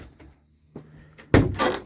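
A door inside a 2021 Chausson Titanium 777GA motorhome is pushed shut with a solid thud after some faint rustling and a softer knock, close by and brief.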